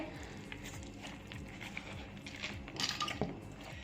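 Soaked moong dal is tipped into a grinder jug, giving soft wet squishes, slides and light clinks of spoon against container that gather near the end over a steady background hum.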